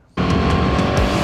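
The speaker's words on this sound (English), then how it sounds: "Oh, that induction noise is just addictive." Honda Fireblade sport motorcycle under hard acceleration, its engine induction roar bursting in suddenly after a quiet moment and holding loud and close as it revs, with no voices.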